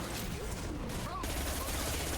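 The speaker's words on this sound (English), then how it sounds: "We're just shooting everyone." Dense bursts of sci-fi gunfire from Mass Effect 2 Legendary Edition crackle continuously through a short, busy combat scene, fairly loud with muffled voices mixed in.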